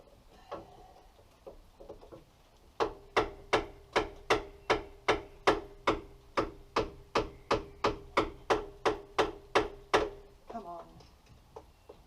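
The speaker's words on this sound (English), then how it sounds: "More tappage with a hammer?" Hammer tapping on a Mk3 Ford Cortina Estate that has no petrol getting through: a steady run of about eighteen sharp, close metallic knocks at an even pace, preceded by quieter fiddling noises.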